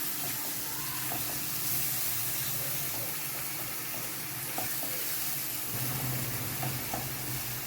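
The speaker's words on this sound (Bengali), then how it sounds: "পেঁয়াজটাকে বেশ লাল লাল করে ভেজে নেব" Steady sizzle of onions frying in oil fills the whole stretch, a dense crackling hiss with a low continuous hum underneath and occasional soft clicks, no voices.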